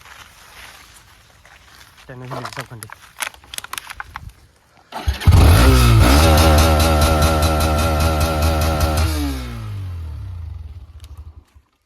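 A Hero Xtreme 125R 125cc sport motorcycle with a modified exhaust silencer cranks and fires up, settling into a loud, steady idle close by, after a few quieter clicks and clatters beforehand.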